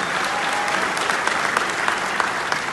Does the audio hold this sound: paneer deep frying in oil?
no